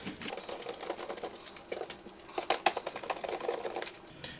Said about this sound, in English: So let's go ahead and remove our final two screws.